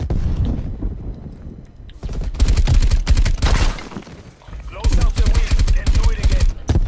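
M16 rifle fire from Black Ops Cold War comes in quick, loud bursts of sharp shots, starting after a quieter stretch and returning in a second volley, with players talking in the background.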